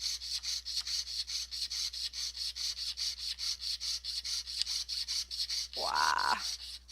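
Hand saw with a dull blade cutting through thick wire, a steady rhythmic rasp of many quick back-and-forth strokes close up, with a brief voice near the end.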